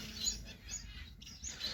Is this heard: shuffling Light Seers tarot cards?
no